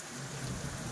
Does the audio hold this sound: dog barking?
no